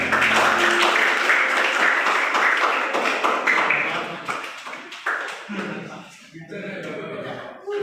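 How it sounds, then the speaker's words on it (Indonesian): Group applause in a classroom teacher-training session, a burst of hand clapping with some laughter that gradually breaks up into scattered claps and murmuring voices. "Kasih tepuk tangan kepada kita semua."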